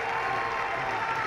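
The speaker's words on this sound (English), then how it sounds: "There's a standing ovation" A cricket crowd at Old Trafford gives a standing ovation on the fifth day of an England v India Test, a steady, dense wash of applause filling the moment.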